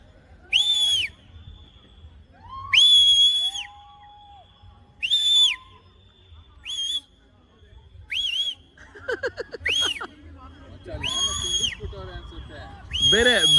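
Shrill whistles and shouts ring out in separate loud bursts at a hill echo point in Munnar, with short pauses between calls and people chattering in between.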